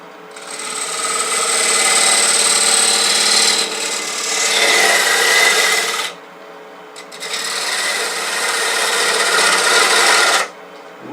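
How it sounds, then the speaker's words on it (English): A spindle gouge cuts a bead on a spinning piece of wood on a lathe, giving a loud steady rasping scrape that runs in long passes with short pauses between them. "but I'm going to use a spindle gouge."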